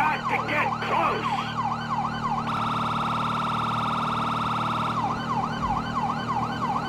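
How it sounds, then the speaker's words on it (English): Wailing police sirens in Grand Theft Auto V cycle continuously over a steady engine drone, loud and close, with the pitch sweeping up and down throughout. "think they can hear the sirens"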